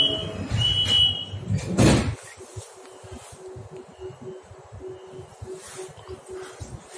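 Urumqi metro Line 1 train doors close with a loud sliding thump and a hiss, followed by a steady two-tone warning chime and low rumble in the station.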